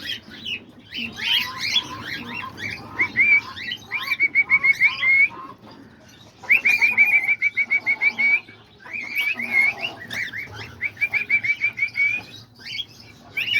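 Cockatiels and diamond doves call in an aviary: bursts of bright, repeated whistling chirps in several rhythmic runs, with softer background chatter between them.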